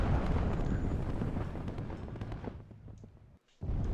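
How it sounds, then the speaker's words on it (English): Battlefield explosions from the WARNO real-time strategy game rumble in a dense, continuous low roar of overlapping blasts and artillery, loud at first and gradually thinning before a brief dropout and a sudden return. "A lot of explosions going on"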